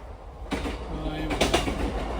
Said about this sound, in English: Yeah, that was another train.